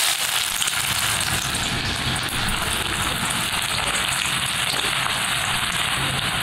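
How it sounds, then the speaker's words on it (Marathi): Chopped ginger frying in hot oil in a kadhai, a steady, loud crackling sizzle that holds evenly throughout without pause. "तेल तापलंय, त्यामध्ये आता हे आलं कापून घेतलंय ते घालूया"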